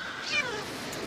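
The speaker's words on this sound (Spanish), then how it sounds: "estoy oyendo maullidos" A cat meows in the video game Minecraft, a single drawn-out, rising-then-falling cry heard alone and fairly close.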